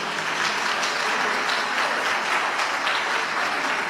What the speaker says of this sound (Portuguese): Então aplaude ao Senhor Jesus.